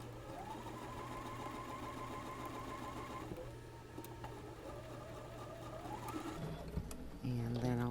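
A sewing machine stitches quilt fabric pieces with a scant quarter-inch seam, running steadily throughout with a continuous mechanical hum and rapid needle chatter, briefly pausing near the end before restarting louder.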